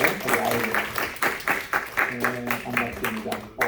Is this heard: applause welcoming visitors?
yes